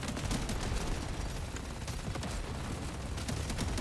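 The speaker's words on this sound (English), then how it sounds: "I'm just gonna fire into him a couple times." Sustained gunfire in the video game Deep Rock Galactic Survivor, a loud, dense wall of rapid shots and impacts layered with booming low rumble, unbroken from start to finish.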